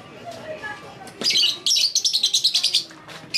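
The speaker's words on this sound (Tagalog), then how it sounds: "Ito pala yung lagi naririnig nyo guys na na ibon." A bird chirps in a quick series of bright, repeated notes, close and clear, over a faint background of room noise.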